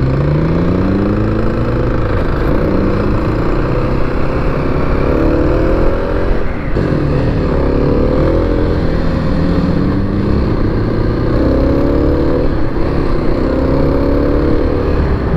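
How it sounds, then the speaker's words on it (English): A 2021 Kawasaki KLX300 dual-sport motorcycle with stock exhaust runs close by, its single-cylinder engine rising and falling through repeated throttle revs and shifts. The mid-pitched drone holds loud and continuous for about fifteen seconds. "This has got a stock exhaust, so it doesn't sound good."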